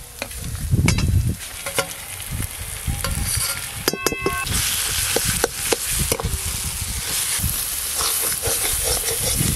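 Ground peas fry in a hot pan while being stirred, giving a steady sizzle with repeated scraping strokes of the spatula and occasional sharp knocks against the pan.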